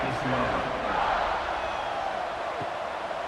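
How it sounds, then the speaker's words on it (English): A stadium crowd in College Football 26 buzzes loudly and continuously at a UCF at TCU game before a kickoff, with broadcast-style commentary running over the noise. "this crowd is buzzing after that last score"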